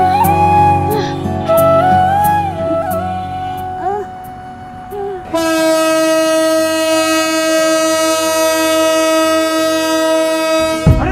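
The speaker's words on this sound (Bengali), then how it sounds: "আরে আরে ট্রেন আইতেছে তো" An approaching train's horn blares loud and steady through the second half, after an earlier stretch of melodic, voice-like tones.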